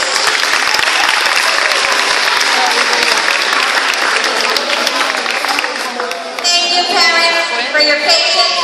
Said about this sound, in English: If you can please give them another round of applause.